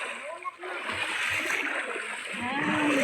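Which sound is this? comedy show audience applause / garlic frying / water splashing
water splashing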